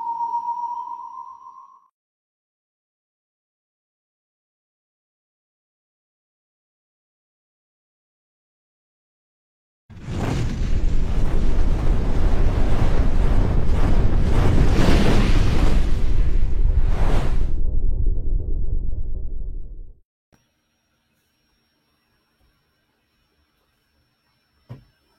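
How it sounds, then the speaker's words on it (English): A dense, swirling burst of music with a heavy sweeping phasing effect swells in after a long silence, roars loudly for about ten seconds, then cuts off abruptly, preceded by a short steady tone. "Listen to that music and phasing."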